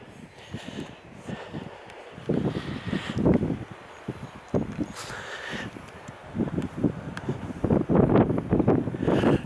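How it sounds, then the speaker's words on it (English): Wind gusting across open grassland at the Woodhead castle ringwork earthwork, a rough blustery rush hitting the microphone in uneven surges, strongest toward the end, with grass rustling beneath and no clear talk. "You can see with the movement of the grass which way the wind's coming from, right behind us."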